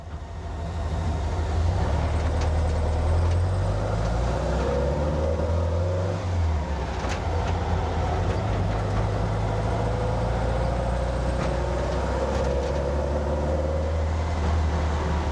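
A car engine fed by dual Weber 40 IDF carburettors runs around 1200 RPM in second gear under added throttle, a loud, steady low drone with gentle swells in pitch through the run, heard from inside the car without talk.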